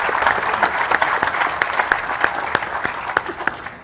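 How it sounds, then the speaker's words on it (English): Applause from an audience at an infrastructure vision challenge finale, a dense steady clapping from a crowd lasting throughout with sharper individual claps standing out. "A round of applause from Peter."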